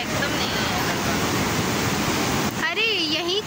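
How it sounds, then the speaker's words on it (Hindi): Rushing water surges through an opened canal near a Mahadev temple at Ghoghar Dham, a loud, steady broadband roar close by, with a brief voice and whistling tones near the end. "पूरा उफान पे है पानी अभी"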